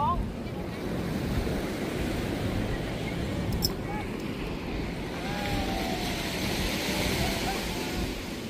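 Surf rolling in at Patong Beach in Phuket, a steady broadband wash of waves with wind buffeting the microphone, continuous and fairly loud throughout, with faint voices in the background.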